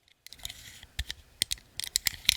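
Scissors snipping through assorted objects up close, a quick run of sharp crisp cuts and rustles growing denser and louder toward the end.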